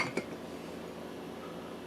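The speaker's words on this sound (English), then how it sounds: "Put the lid on it." A metal lid is set onto a pot of simmering gumbo with one short clink near the start, followed by a low, steady kitchen hum.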